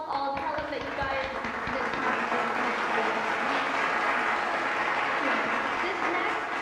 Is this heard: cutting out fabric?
no